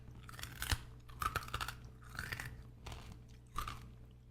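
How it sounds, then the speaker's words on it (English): Someone bites into cooked chicken feet with close, crisp crunches and gummy chewing, several distinct bites spaced a second or so apart, quiet and with no talking. "that first bite is a bit gummy with the crunch because of all the collagen."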